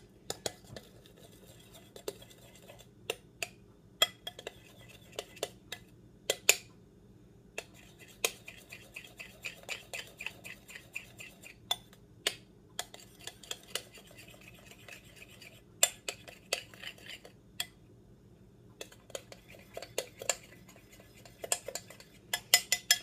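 A utensil stirs and swirls a colored dairy-free coconut white hot chocolate mixture, giving light, scattered clinks against the container over a quiet background.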